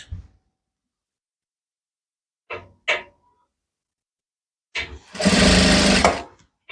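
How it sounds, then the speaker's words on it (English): A sewing machine stitches around the edge of a kimono jacket in one loud sustained run of about a second, near the end, after a few short clicks and handling noises. "So I'm just going to be sewing all the way round."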